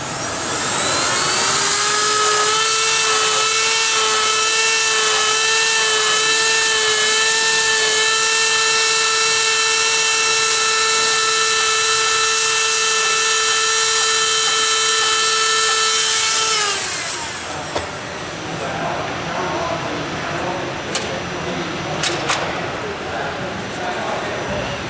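Rotary power carving tool grinding into wood, a steady high-pitched whine with harmonic overtones running loud for about seventeen seconds, then stopping, followed by quieter handling noises and brief clicks.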